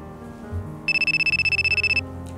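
A phone ringback or ringtone trills in a rapid, steady pulsing burst about a second long, clear and close, while a call is being placed again after an unanswered first try.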